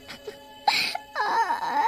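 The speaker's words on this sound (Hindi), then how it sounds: "शाम होने के बाद उस औरत के रोने की आवाजें आने लगती हैं" Woman crying and wailing in a haunted park at dusk for a horror story, short faint sobs then a drawn-out rising and falling moan, alone without talk.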